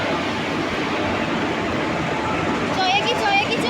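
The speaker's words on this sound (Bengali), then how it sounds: "ট্রেন ঢুকে গিয়েছে" A train rolls into a station with a steady, loud rumble, and people begin talking nearby toward the end.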